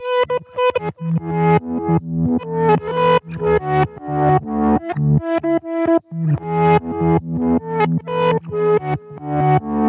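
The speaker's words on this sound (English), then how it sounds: "we're now using a reverse delay." A Hologram Microcosm pedal set to a reverse delay preset plays a steady run of dense, harmonically rich notes. Each note swells in and cuts off, giving a continuous loud pulsing of backward-sounding echoes with no voices.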